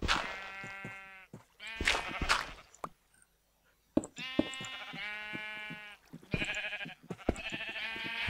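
Sheep in the video game Minecraft bleat again and again, loud and close, their calls spread in bursts with brief quiet gaps between them.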